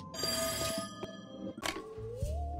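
A telephone rings in the game There Is No Game, with repeated bright bell trills over quiet background music, heard on its own and without talk.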